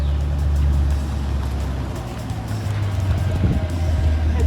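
A push-button-started Camaro SS V8 idles with a steady, deep, close rumble throughout, with no distinct start-up surge.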